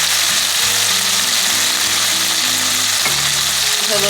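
Jerk salmon sizzles steadily in a hot pan during deglazing, a continuous bright hiss with a music-like tonal hum beneath it and no talking.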